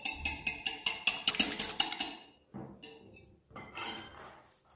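A whole egg beaten in a bowl for a quiche custard, a fork striking the bowl in a fast, even run of sharp clinks that stops, followed by softer scraping and stirring nearby.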